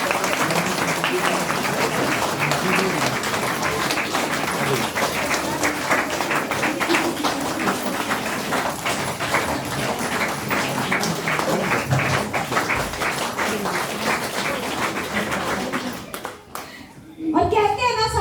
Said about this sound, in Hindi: तालियां बंद नहीं होनी चाहिए भाई